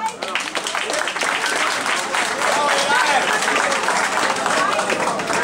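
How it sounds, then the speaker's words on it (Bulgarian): Audience applauding the winner at a sambo awards ceremony on stage, a dense, sustained wash of clapping from a sizeable crowd that holds steady for several seconds. "Още веднъж аплодисменти за победителя."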